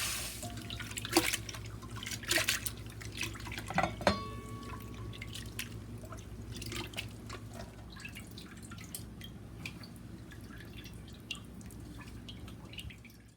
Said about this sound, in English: Open the package and begin rinsing the crab meat in cold water twice before draining.